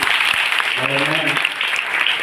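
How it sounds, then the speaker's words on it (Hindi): Schoolgirls at a Hindi Day event at a government girls' inter college get a dense, continuous round of applause that fills the moment, with a brief voice or tone rising through it. "आज का प्रयास में जोरदार तालियां इन बच्चों के लिए।"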